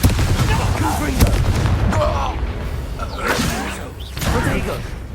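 Confringo blasting curse in Hogwarts Legacy during a fight, several sharp booming blasts with whooshing bursts spread across the moment, loud and close, mixed with other spell effects and game noise.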